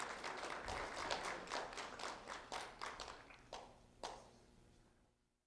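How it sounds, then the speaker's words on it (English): A small audience at a school honors ceremony gives a round of applause, quiet and distant, the claps thinning into a few separate slaps before fading to silence. "Round of applause for Kaylie Wagner"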